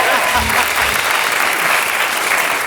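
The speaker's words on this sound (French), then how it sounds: "Il y a que Claudia Tagbo qui va bien et on peut l'applaudir très très fort." A TV talk-show studio audience claps loudly and steadily for a comedian guest, with brief voices audible over the start of the applause.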